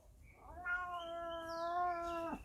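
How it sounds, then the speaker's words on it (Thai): A house cat that hunts birds gives one clear, drawn-out meow close by, rising and then holding steady before cutting off in an otherwise quiet room. "เดี๋ยวเรามาดูไอ้เจ้า แมวนักล่าหน่อยสิครับ"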